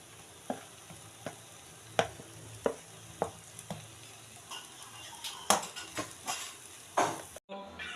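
A spoon stirs and scrapes masala filling for samosas in a pan, a sizzling fry bed underneath with sharp, irregular scraping clacks every half second or so, ending abruptly.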